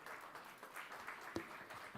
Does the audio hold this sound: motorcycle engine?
no